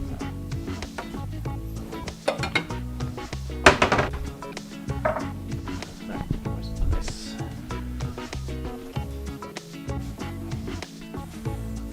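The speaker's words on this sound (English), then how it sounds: "clean that wok while it's hot" A hot wok is scraped and cleaned with metal utensils, making irregular close clanks, knocks and scraping strokes that come in bursts over the whole stretch.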